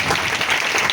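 A church congregation breaks into brief, dense clapping, a short burst of applause with no voices heard over it.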